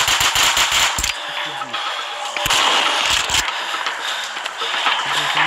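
Loud bursts of automatic gunfire from a zombie shooter video game crackle in rapid, overlapping volleys, broken by short gaps, dense and close throughout.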